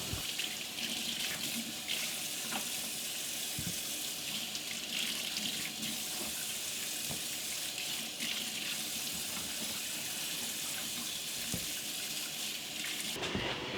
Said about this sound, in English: then I'll wash up the utensils I'm going to use during my canning process